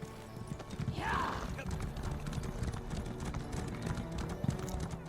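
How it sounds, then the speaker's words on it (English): A horse's hooves clip-clop at a steady trot in Elder Scrolls Online. The hoofbeats are soft and continuous, with a brief whinny-like swoop near the start. "Horse."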